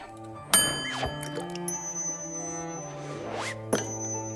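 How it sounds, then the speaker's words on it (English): A bell in the tavern video game Tavern Talk gives two bright chimes about three seconds apart, each opening with a sharp strike and leaving a clear ringing tail, over faint layered game tones with no talking. "Okay, I'm going to ring the bell."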